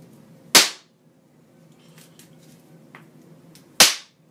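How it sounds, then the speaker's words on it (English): Two sharp cracking bangs from a mini thermite reaction, set off when an iron ball strikes aluminum foil, come about three seconds apart. Each is close and loud with a quick sizzling tail, and quiet falls between them. "the kinetic energy of the two things hitting together can be used to spark, if you will, this chemical reaction"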